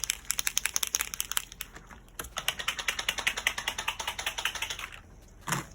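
Marbles rattle inside POSCA paint markers as they are stirred and shaken, a fast run of sharp clicking taps in repeated bursts with a short pause midway and a louder knock at the end.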